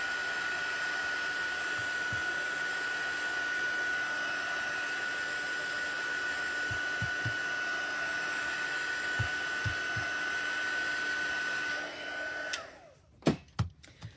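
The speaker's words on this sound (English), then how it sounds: "I'm going to heat it with my heat tool here a little bit" A heat tool blows steadily to dry damp stamped craft work, a continuous loud whooshing hum that runs about twelve seconds and then cuts off, followed by a few faint knocks and clicks.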